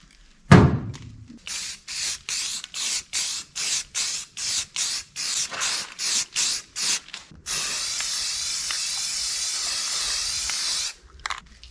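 Primer going on in a light first coat from a spray gun, a sharp opening thunk followed by a dozen short, evenly spaced bursts of hiss, then one long continuous spray, loud and close.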